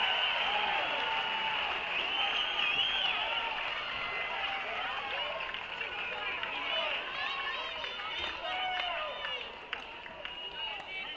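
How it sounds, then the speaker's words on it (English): A Georgia crowd roars and cheers at a college tennis match in the NCAA tournament, with sustained loud applause and excited shouting filling the space, and a commentator's voice running over the din. "listen to this Georgia crowd get after it"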